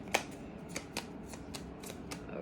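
Tarot cards are shuffled by hand in soft, rhythmic riffles and taps, quiet and close, with no talking.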